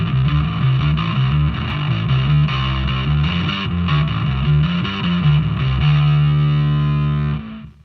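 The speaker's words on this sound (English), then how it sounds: "Let's see what happens if we put a distortion after it." A distorted electric guitar through a Headrush effects rig plays sustained chords and riffs, thick and saturated, ringing out on a held chord before cutting off at the end.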